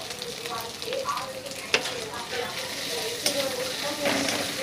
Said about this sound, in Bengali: আবার একটু ভেজে নিচ্ছি